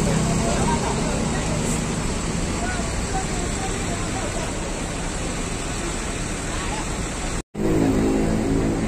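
Congested traffic near the Pondok Pinang bus terminal, a dense, constant wash of engine rumble and road noise from buses and cars, loud and unbroken apart from a brief cut near the end.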